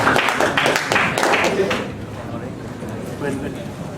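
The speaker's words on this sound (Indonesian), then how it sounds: "Tepuk tangan." A university lecture audience in a religious studies class claps briefly after a talk, a short burst of hand claps fading after about two seconds into quieter room noise and voices.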